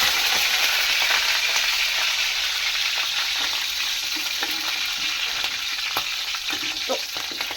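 Curry leaves and green chillies fry in hot oil with a loud, steady sizzle close up and faint stirring clinks through it.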